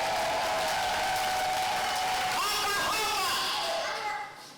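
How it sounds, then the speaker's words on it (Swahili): A church congregation applauds with a dense, continuous clatter of clapping. High wavering ululation rises over it midway, and voices call out before the sound fades at the end. "Hebu mpigie Yesu makofi na vigelegele"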